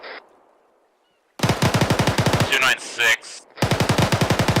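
Bursts of automatic gunfire from an ArmA 3 military shooter, rapid loud rattling volleys in two long strings separated by a short gap with a few clipped sounds, while a voice briefly speaks.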